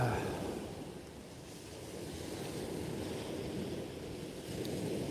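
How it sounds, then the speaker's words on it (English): Wind blusters across the microphone at a sea shore while broken surf rolls in as a steady, rough wash, continuous and fairly loud, with no clear talking. "It is quite windy"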